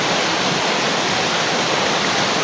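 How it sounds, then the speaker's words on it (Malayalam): A small stream runs beside a rubber plantation. Its flowing water makes a constant, close rush with an even, unbroken texture, and no talk is heard over it. "റബ്ബർ തോട്ടത്തിൻ്റെ സൈഡിൽ കൂടെയാണ് നമ്മളുടെ ഈ ചെറിയ തോട് ഒഴുകുന്നത്"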